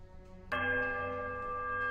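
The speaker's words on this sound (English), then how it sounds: "The bell sounds a strange warbling peal that grows to a painful shrillness before it diminishes to a mournful chime." A large iron bell rings in the fantasy game Pillars of Eternity, striking suddenly halfway through and sustaining a loud, bright peal with a long shimmering ring.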